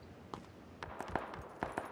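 Gunfire in the video game PUBG sounds off to the right, a scattered string of faint, distant shots, some in quick pairs, against a quiet backdrop.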